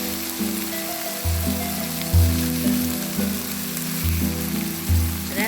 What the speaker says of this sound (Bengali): আবার একটু ভেজে নিলাম